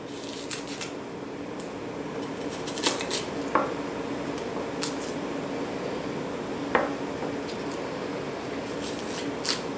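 A knife cuts the tops off small onions on a board, giving scattered sharp cuts and taps close by, with short knocks over a quiet kitchen background.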